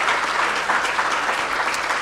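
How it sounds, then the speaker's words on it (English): An audience at a college of law conference gives a round of applause for plenary speakers, dense and steady clapping from many people filling the room at a loud, even level throughout. "please give another round of applause for our plenary speakers"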